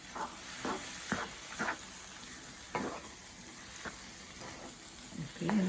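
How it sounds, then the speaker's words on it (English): Carrot halva (gajrella) being stirred in a pan, with a series of scraping strokes at an irregular rhythm over a soft, steady sizzle, fairly close. "Don't forget to stir it because it can catch very quickly."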